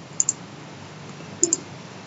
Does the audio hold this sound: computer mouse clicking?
yes